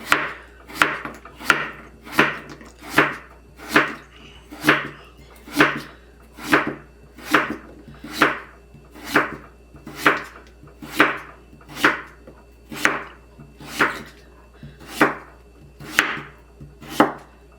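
A knife slices radish into thin squares on a wooden board, giving about twenty crisp, evenly spaced chops in a steady rhythm, close and clear, with no talking.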